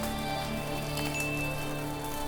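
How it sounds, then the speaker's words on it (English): Heavy tropical rain pours down steadily on burnt mountain slopes in Madagascar, a dense, continuous hiss with no break and no voices. "When the heavy tropical rains pour down on these burnt mountains, there is nothing left to hold the earth."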